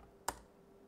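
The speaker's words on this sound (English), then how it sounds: "double click on it." A single sharp click from a computer mouse, close and quiet, standing alone against faint background hiss.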